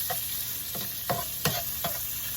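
Chopped vegetables, peppers among them, sizzle quietly in a pan for a loaded omelette while a utensil scrapes and taps against it a handful of times, close and unhurried, with no talking.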